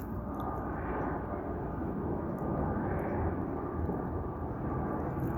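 An airplane in a video game flies past with a heavy, continuous low engine roar and rumble, loud and steady throughout with no voices over it.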